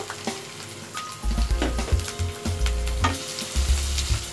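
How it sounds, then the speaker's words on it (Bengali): Chopped onions with green chillies, dried red chillies and whole cumin fry in a pan for a pumpkin dish, a close steady sizzle broken by repeated stirring clatters of a spatula, with no talk. "এরপরে পেঁয়াজগুলোকে আমরা কিছুক্ষণ ভেজে নিব"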